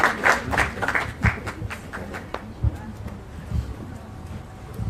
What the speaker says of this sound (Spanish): yo les pido un aplauso para el maestro